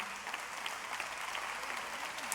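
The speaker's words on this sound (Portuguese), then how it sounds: "Você não quer aplaudir Jesus não, que eu acho isso muito lindo." Steady applause from a church congregation, a dense wash of clapping hands at moderate distance, continuing evenly without pause.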